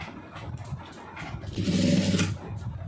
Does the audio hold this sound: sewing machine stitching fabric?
yes